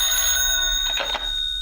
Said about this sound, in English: the office phone opened up